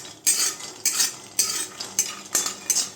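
Raw peanuts being dry-roasted in a dry kadai and stirred for dosa chutney, giving six distinct bursts of rattling, scraping clatter at a steady rhythm, close and fairly loud, with no talking.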